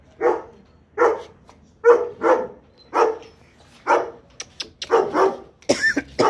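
Dogs at a farm still under construction bark about ten times in a loud, close, uneven series, with some quicker yips toward the end.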